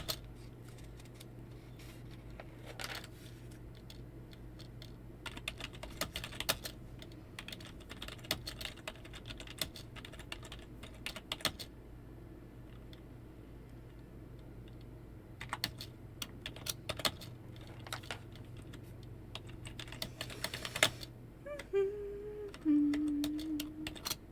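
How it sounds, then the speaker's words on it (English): Keys clatter on a computer keyboard in bursts of quick taps with short pauses, close and moderately quiet over a low steady hum, during a game development stream. "Yay, typing."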